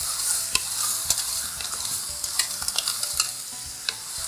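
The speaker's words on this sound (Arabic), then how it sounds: "هنقلب بقى، هتلاقيه بينزل ميته." Seasoned seafood stirred in a pot for seafood cream soup, with a steady close sizzle of frying and repeated sharp scraping clicks of the spoon against the pot.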